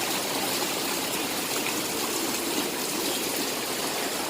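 Water rushes steadily and loudly nearby after heavy rain at a street food market, a constant hissing flow with no pauses and no voices.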